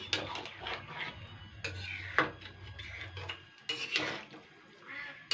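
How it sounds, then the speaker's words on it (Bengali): A metal spatula stirs and scrapes chicken curry in a kadai, making irregular rasping and scraping strokes with occasional clinks against the pan, close and fairly soft over a low steady hum. "এইভাবে কষাতে হবে মাংসটাকে নিচের মাংসগুলো একবার ওপর দিকে ওপরের মাংসগুলো নিচের দিকে নিয়ে যেতে হবে আর খুন্তি কিন্তু লাগবে কিন্তু খুন্তি দিয়ে নাড়ালে ভালো হবে"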